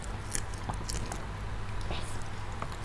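Crispy fried chicken with thin, crunchy coating being bitten and chewed up close during an Indonesian mukbang, soft crunches and wet chewing repeating steadily over a low background hum.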